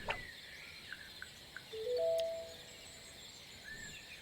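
Scattered bird chirps and a brief whistled call in the game Dead In Vinland, set among bushes with fruit. The calls are faint and spaced out over a soft ambient hiss, and no one speaks.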